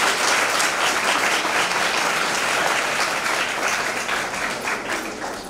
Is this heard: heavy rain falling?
no